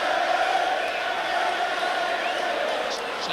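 A football crowd at a 1990 Tottenham Hotspur v Norwich City league match roars and cheers loudly and continuously after a Man of the Match announcement, a broad wash of distant voices.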